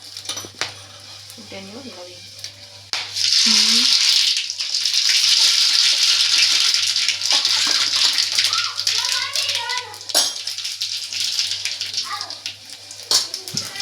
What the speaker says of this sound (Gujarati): તેલ આવી ગયું છે એટલે સાંભારનો વઘાર કરી નાખી